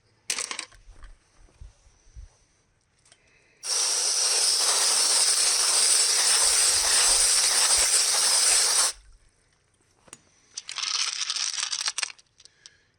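Tumbled rocks being rinsed with water, a steady rushing hiss of pouring and sloshing lasting about five seconds, with brief rattling clatters of stones before and a shorter burst of rinsing near the end.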